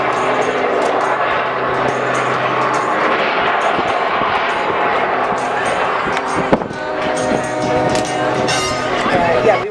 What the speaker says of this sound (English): suspended above us with the jet engine roaring.